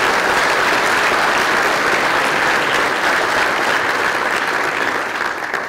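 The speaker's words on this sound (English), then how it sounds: "Let's have a round of applause for them." Steady, dense audience applause fills a school hall after an upper school instrumental Christmas concert, loud and sustained throughout with no voices on top.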